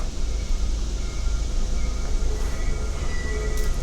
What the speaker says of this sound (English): I hear a train.